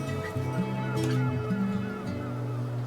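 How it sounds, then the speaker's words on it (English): Gull-like honking calls sound continuously through a music track, layered over sustained low tones with steady loudness and no speech. "Seagulls."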